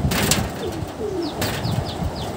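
A Giribaj pigeon close to laying eggs gives low coos among other birds, with light wing flutters and small high chirps scattered across a short stretch of steady background noise.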